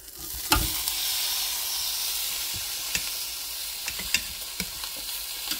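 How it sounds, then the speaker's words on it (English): Peruvian chicken quarters sizzle on a grill with a loud, continuous hiss, broken by a few scattered pops and light knocks. "And they're going to cook on the grill for about 10 minutes."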